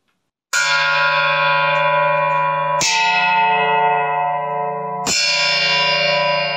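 A bell cast from a Mariupol artillery shell casing is struck three times, each loud, bright ring sustaining and ringing on for a couple of seconds before the next strike, with no talk.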